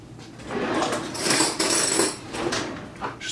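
A metal spoon spreads and scrapes mustard onto a raw pork loin for roasting, with a run of close, clattering metallic scrapes and taps in uneven bursts and no talking over them.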